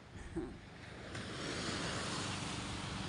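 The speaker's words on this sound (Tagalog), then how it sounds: "Ito yung tabing dagat po." Sea waves wash onto the shore in a soft, broad hiss that swells and keeps going, faint and distant, with some wind rushing over it.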